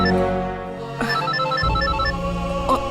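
A telephone rings indoors in a television drama scene, a bright, steady electronic ring that carries on continuously at moderate loudness, with no speech over it.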